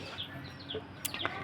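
Chickens with chicks cluck and peep softly at a distance, a few short calls scattered over a quiet outdoor background.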